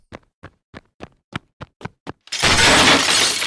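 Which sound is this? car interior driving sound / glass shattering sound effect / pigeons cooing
glass shattering sound effect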